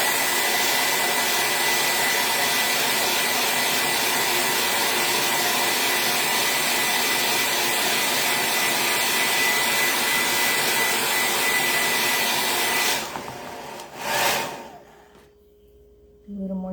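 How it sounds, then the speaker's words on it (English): A hair dryer blows steadily and loudly up close, drying chalk ink on a shirt, a constant whooshing roar for about thirteen seconds before it cuts off with a brief sputter. "So now, I'm going to blow dry it a little bit more. It's about to get loud if you want to turn down your volume."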